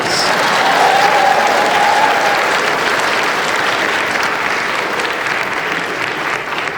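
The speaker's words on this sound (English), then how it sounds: "Everyone give Ziba a round of applause." Steady, loud applause fills a live stage show at a PAX East 2020 convention performance, sustained clapping from a large audience with a brief tonal note near the start.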